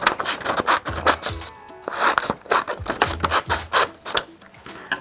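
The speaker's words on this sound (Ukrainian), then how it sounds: "Послухаємо тепер звуки, коли папір розрізаємо." Paper being cut with scissors during a speech therapy exercise for children, a series of close, crisp snipping and rasping strokes in an uneven rhythm, with no one speaking.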